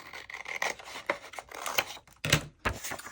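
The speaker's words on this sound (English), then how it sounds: "I want to just trim this edge off" Scissors or a blade trim the edge of a paper scrapbook page pocket, giving faint, close scratchy snips and rasps with a short pause before a couple of final cuts.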